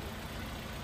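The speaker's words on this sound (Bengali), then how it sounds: "এই যে ইঞ্জিনের সাউন্ডটা শোনেন" A 2012 Hyundai Accent idles, a brief, even engine hum heard up close and alone.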